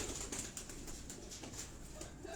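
A pigeon coos repeatedly on a rooftop loft among other pigeons, with soft flapping and rustling nearby; the low, rhythmic cooing stays steady and moderately faint, with no talking.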